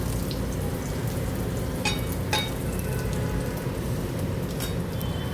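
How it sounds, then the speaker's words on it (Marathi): Chili vada, mirchi dipped in batter, with leftover potato filling in batter too, deep-frying in hot oil: a steady, dense crackling sizzle with occasional sharper pops throughout. "हे बटाट्याचं जे फिलिंग उरलं होतं ते पिठात भरून बुडवून ते याप्रमाणे मी तळून घेते."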